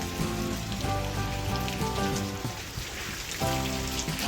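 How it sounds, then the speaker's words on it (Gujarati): Rain patters steadily on a surface while a droning, humming tone rises and falls alongside it. "બહાર વરસાદ ચાલુ છે"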